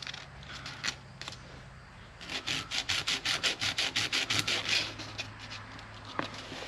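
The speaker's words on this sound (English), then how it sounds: "I may just take a piece of sandpaper and move it lightly over there." Sandpaper lightly rubbed over a small metal part of a Yamaha DT2 motorcycle, a run of about a dozen quick, even scratchy strokes in the middle, close and soft.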